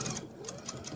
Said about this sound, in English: And I'm going to sew up the side at that 1/4 of an inch